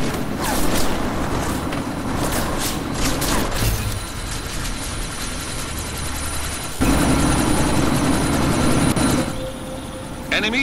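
A helicopter in the video game Deus Ex: Mankind Divided thrums steadily and loudly throughout, with mechanical clatter and game combat sounds layered over the rotor drone.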